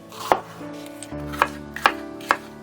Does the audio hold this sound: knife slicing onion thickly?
yes